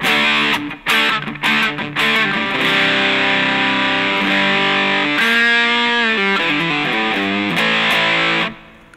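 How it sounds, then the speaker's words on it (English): Electric guitar played through an MXR Distortion+ pedal, producing thick, harmonically rich, sustained distorted chords and notes that change several times before cutting off near the end, loud and up close. "Very nice distortion."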